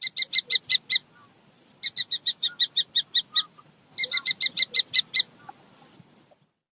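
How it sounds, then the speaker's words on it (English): A falcon calling: three bursts of sharp, shrill repeated notes, each a quick even series of about six to eight cries, clear and loud against near silence. "falcon,"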